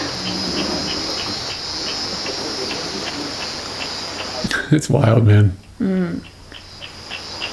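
Cicadas on the island of Flores, Indonesia, seen from a room with a view, drone in a steady high pulsing buzz that carries on under people talking nearby.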